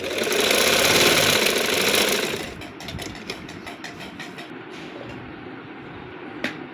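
An electric sewing machine stitches a sharara garment, its motor whirring loudly and steadily for about two seconds before dropping to a quieter run with light clicks, all close up and with no talk.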